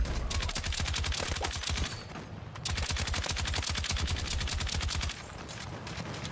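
Rapid automatic gunfire in Battlefield 6, long close bursts of evenly spaced shots with brief pauses between strings, loud and sharp with no talk over it.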